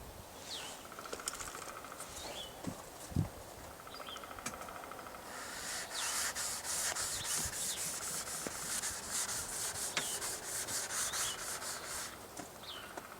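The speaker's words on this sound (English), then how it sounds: "you put a generous amount on your scrubber pad and prime both surfaces" A scrubber pad rubs primer onto an EPDM pond liner seam, making a soft, continuous, close scratchy scrubbing with quick rhythmic strokes that grow busier partway through.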